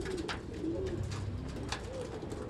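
Pigeons coo in a loft, soft rolling calls overlapping at close range, with faint flutters and rustles underneath.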